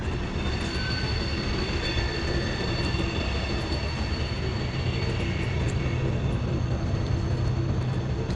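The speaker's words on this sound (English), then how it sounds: "That train don't sound too good." A train passing near a wooded trail at the old Nuttallburg mining town in West Virginia, a steady loud rumble with faint high wheel squeal, no voices.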